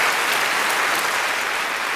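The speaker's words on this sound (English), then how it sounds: "Round of applause for our 6 men." An audience claps for six volunteer men called up on stage, a dense, even wash of many hands heard alone at steady loudness throughout.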